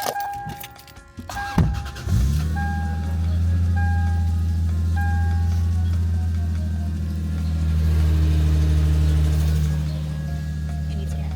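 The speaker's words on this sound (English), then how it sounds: "Little cold start." Lexus IS300 wagon cold starting: a brief starter crank, then the engine catches and settles into a loud, steady high idle close by, revving gently once toward the end.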